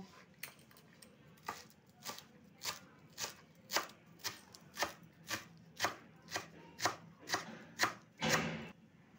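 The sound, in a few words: chopping coriander leaves with a knife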